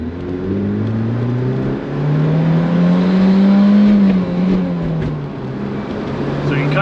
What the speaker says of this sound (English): we got to that high RPMs and we're not really accelerating